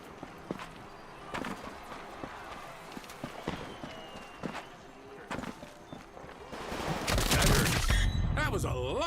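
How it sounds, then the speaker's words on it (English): Rapid bursts of gunfire in the video game Combat Champions, sharp repeated shots in quick clusters that build into a dense, loud barrage toward the end, with voices chattering over the action. "That was a lot of bullets."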